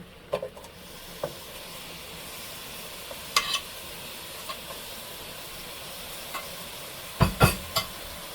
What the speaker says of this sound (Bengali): এখন কড়াইটা চুলাতে দিছে, এখন পেঁয়াজ দিয়ে দেবো প্রথমে